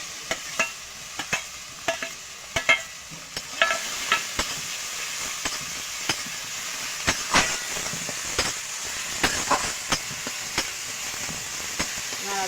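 Chopped tomato and garlic paste stir-frying in a pan for a pangas fish curry, a steady soft sizzle broken by repeated scraping stirs of a spatula, close and moderate in level.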